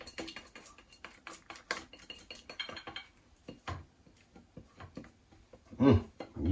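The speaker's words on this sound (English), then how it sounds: "It's sticking, so we get my handy spatula." A spatula scraping and stirring spaghetti in a pan, with close metallic clinks and scrapes in an irregular rhythm, fairly quiet with no talking.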